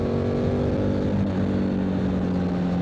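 Steady engine drone from a 2024 Triumph Tiger 900 GT Pro motorcycle under throttle, a continuous loud tone with strong low harmonics holding even throughout, no voices.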